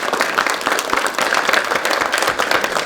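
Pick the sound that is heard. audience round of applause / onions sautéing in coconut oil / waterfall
audience round of applause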